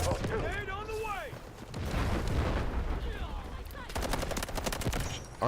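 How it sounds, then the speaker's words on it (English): Grenade blast in the Delta Force video game, heard as a burst of rumbling explosive noise amid continuous gunfire and rapid automatic shots, with voices talking over the combat. "Grenade on the way!"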